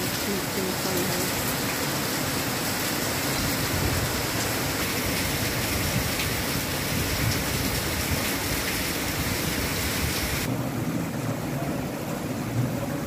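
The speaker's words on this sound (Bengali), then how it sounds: "প্রচুর পরিমাণে বৃষ্টি হচ্ছে মুষলধারে।" Torrential rain pours in a loud, unbroken roar of broadband noise, with a slight change in tone near the end.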